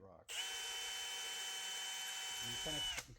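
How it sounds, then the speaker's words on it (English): A power drill bores into sheetrock with a steady, continuous whine lasting about three seconds, close and clear, with a brief clunk as it stops. "you're going to drill into the sheetrock"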